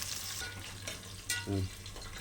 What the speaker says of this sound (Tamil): ஸோ இப்போ இது வதங்கட்டும் இது கொஞ்சம் லைட்டாக வதங்கினா போதும்